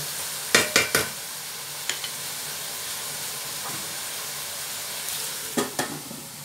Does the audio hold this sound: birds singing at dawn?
no